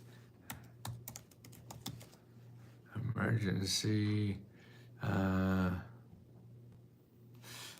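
Keystrokes on a computer keyboard tap out a zip code in a quiet room, a few scattered clicks followed by bursts of typing, with a person's voice speaking in between.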